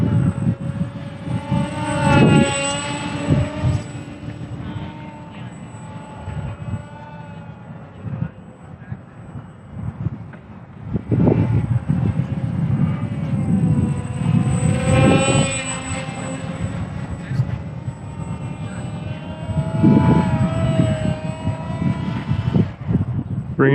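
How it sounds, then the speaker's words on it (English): An ESKY Sparrow beginner RC biplane flies low over the ground, its small electric motor whining loudly and rising and falling in pitch as it makes repeated close passes. "it takes a little more concentration to fly low to the ground like this"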